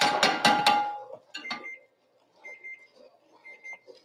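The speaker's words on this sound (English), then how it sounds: "What is that timer for? For the crab cakes that are done now." Kitchen timer going off for crab cakes, a few short high beeps after some clattering kitchen noise, moderately loud and heard without talk.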